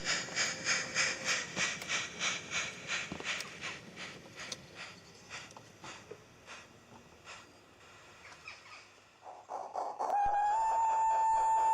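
A small light-railway train led by a Pico motor block moves along, giving a rhythmic pulsing chuff with faint clanks from its wagons. It ends in a sustained steady hiss and whine.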